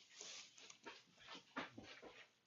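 Lucy the dog whimpering and panting on a freezing morning before a walk, soft repeated whines and breathy pants, close but quiet.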